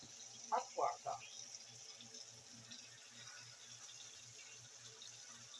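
Hot water running from a kitchen tap while cooking Jamaican cow foot with rice and peas, a steady soft splashing stream after a few brief louder gushes at the start, with a person talking over it.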